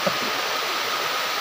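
Water flows in a steady, broadband rush at a waterfall or stream, close and continuous with no voices over it.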